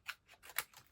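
Scissors snip through a paper tag piece during a papercraft project, giving several quick, close, quiet cuts in about a second, with no talking.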